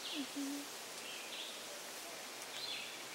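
Birds call outdoors, a few faint high chirps and whistles over a steady hiss of ambient noise, with no one speaking.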